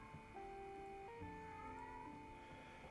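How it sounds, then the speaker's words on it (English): A house cat meows in a few drawn-out, wavering calls, fairly quiet and slightly distant against a low room hum, with no one talking. "I hope chat isn't just hearing the constant meowlings of my freaking cat."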